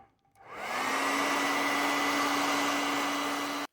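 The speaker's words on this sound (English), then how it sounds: "Not too high of a heat, like a hair dryer versus, say, a heat gun." A hair dryer blows steady, close and loud on low heat, warming old Scotch tape on a vintage Kenner Star Wars card back, switching on after a brief quiet start and running with a constant whine and airy rush before cutting off abruptly.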